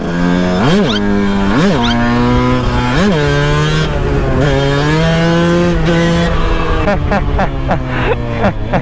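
A 125cc motorcycle at a bike meet revs hard in fifth gear with the clutch slipped, loud and close, rising and falling in repeated bursts that swell, then turn into a sustained rasping roar and a string of choppy blips.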